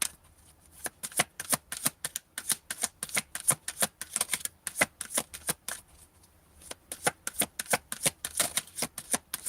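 Oracle cards being shuffled by hand, crisp riffling bursts repeating in quick rhythmic flurries with brief pauses between, close and clear with no talking.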